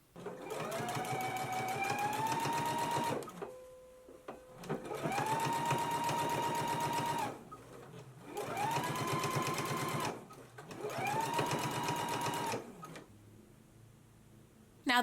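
A sewing machine understitches the facing of a McCall's 7330 jumpsuit in four rapid, buzzing runs, each separated by a short pause, close and clear.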